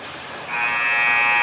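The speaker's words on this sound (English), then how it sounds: "And the buzzer sounds." A hockey arena horn blares to end the first period of a junior hockey game, a loud steady tone starting abruptly and holding to the end.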